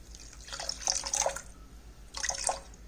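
Water poured for jalebi sugar syrup, splashing and trickling in two bursts with a pause between, close and moderately quiet.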